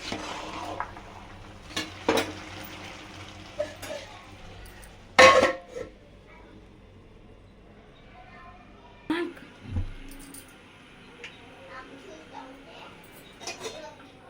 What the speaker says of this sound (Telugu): కింద నుంచి మొత్తం బాగా కలుపుకోవాలి అన్నం.